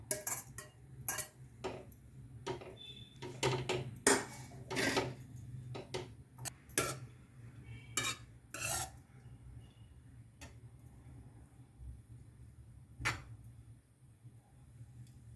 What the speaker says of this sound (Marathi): त्याच्यामध्ये हा गाजराचा किस आपण परतून घेणार आहोत